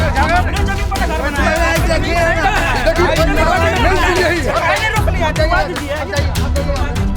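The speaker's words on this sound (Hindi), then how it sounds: "वहाँ पर बहुत भीड़ है।" A crowd chatters at a ration shop, with many overlapping voices forming a loud, continuous babble that stays close and steady throughout.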